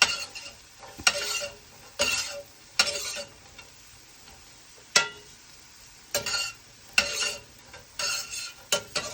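Sweet potatoes sizzle in a very hot pan while a utensil stirs and scrapes them in repeated loud bursts, separated by quieter stretches of frying, with no talking.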